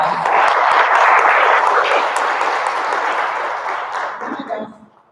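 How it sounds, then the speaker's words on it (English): Audience at a school board meeting clapping, a sustained burst of applause that fades out over a few seconds. "another hand of applause"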